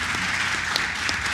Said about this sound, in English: if we could get a big round of applause for the panel